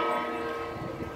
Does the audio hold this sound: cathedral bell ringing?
yes